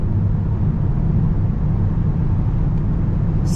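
A 2025 Mercedes S63 AMG V8 hybrid cruising on the autobahn, a steady low engine and road rumble with wind noise, continuous and unbroken, heard from inside the car.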